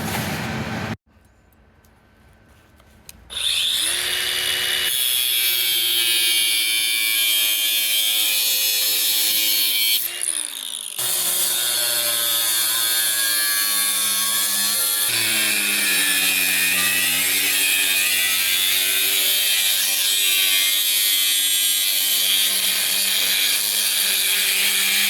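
Power tool cutting a metal repair piece to size for a Ford Escape, running as a steady, loud, close grinding whine for over twenty seconds after a short start and a brief dip midway.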